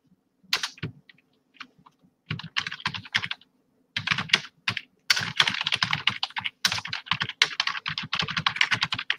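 Typing on a computer keyboard while writing a document, close and clear bursts of rapid key clicks separated by short pauses, growing denser and more continuous toward the end.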